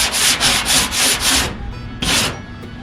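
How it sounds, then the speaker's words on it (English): Hand sanding on the quarter panel of a 1969 Dodge Charger under restoration, with five quick rhythmic strokes followed by a pause and one more stroke, loud and close with no talk. "That's how you want to sand it, is on an angle."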